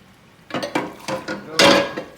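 A metal pot clatters in a kitchen while linguine is drained, with five or six sharp knocks and scrapes in an uneven rhythm, the last one loudest.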